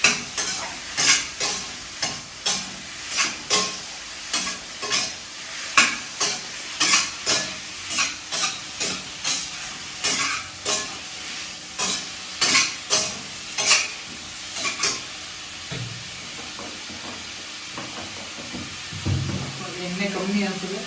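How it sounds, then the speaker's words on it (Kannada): Sliced mushrooms frying in oil in a pan with a steady sizzle, stirred by a utensil in repeated scraping strokes about twice a second, close and fairly loud, with a brief clatter of cookware near the end. "ಮಶ್ರೂಮು ಸ್ವಲ್ಪ 2 ಮಿನಿಟ್ಸ್ ಎಣ್ಣೆಯಲ್ಲಿ ಫ್ರೈ ಆಗಲಿ"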